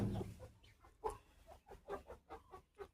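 Hens cluck in short, uneven bursts close by, several soft calls following one another with no talking.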